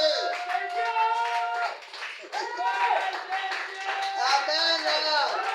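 A church congregation acclaims the word of God with loud, sustained cheering voices mixed with applause, filling the room close and full throughout.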